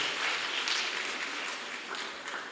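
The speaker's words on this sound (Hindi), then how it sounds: "एक बार जोरदार ताली से इनका उत्साहवर्धन करेंगे।" An audience claps in sustained, even applause for children about to perform at an Arya Samaj event in Meerut, with the clapping steady throughout and no voices over it.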